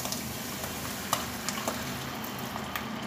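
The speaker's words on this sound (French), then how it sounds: "On va verser un tout petit peu de vin blanc." White wine poured into a hot pan of frozen morels: a soft continuous sizzle with faint stirring scrapes and a few small crackles, heard close and fairly quiet.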